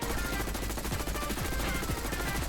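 A KSV rifle fires full auto in Black Ops 6, a dense, fast rattle of shots that stays loud and unbroken for the whole short burst.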